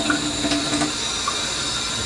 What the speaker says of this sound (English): I'm going to lightly just water it down with cold water.